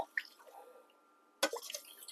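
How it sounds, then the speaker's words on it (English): Homemade cranberry juice drips in a few soft, close liquid plinks, with a brief burst of wetter splashing noise near the end. "Hush, it's dripping."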